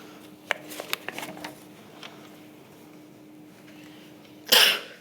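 A few soft clicks and taps in a quiet hearing room of a public inquiry, then a single loud, sharp sneeze near the end.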